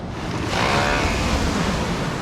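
Ocean waves wash ashore on a beach on Gili Trawangan island near Lombok, Indonesia, a steady broad rush of surf with wind noise across the microphone, fairly loud, with no talking.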